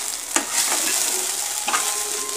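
Okra poriyal with curry leaves sizzling and crackling in a pan, a steady hiss broken by a few sharp stirring scrapes, close and loud with no talking.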